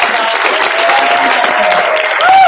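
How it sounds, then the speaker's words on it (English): An audience at a division meeting gives a short round of applause, dense clapping close by with a few cheers and whoops over it. "let's give them a round of applause"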